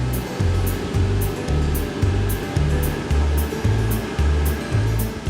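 A tea processing machine finely chops and flattens withered tea leaves, giving a loud, steady mechanical whoosh with a regular pulsing thump about twice a second, running alone with no talk.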